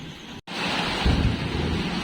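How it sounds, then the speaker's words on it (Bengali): Heavy rain pours down during a thunderstorm with lightning, drenching a rooftop: a steady, loud, broadband roar that drops out for a split second near the start, then swells slightly and carries on unbroken, with no voices. "এত বৃষ্টি হচ্ছে"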